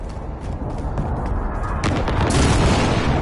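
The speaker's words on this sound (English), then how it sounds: "Be advised, friendly precision airstrike inbound." Precision airstrike explosions in a Modern Warfare online match on PS4 Pro, a dense run of heavy booms and blasts that rolls on without a break and grows louder toward the end.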